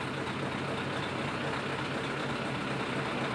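A lorry idles at a truck show, a steady low engine rumble with broadband noise held evenly throughout, close by and without talk.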